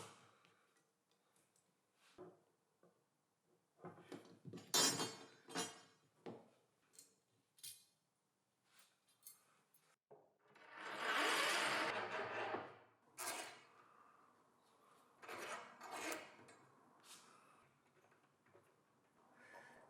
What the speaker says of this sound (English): Now I'm going to prepare and cut the threaded rods to the required length.